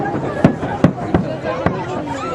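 Navy Day fireworks salute seen from a Volga riverside embankment: four sharp distant bangs spaced roughly every half second, over a steady crowd murmur.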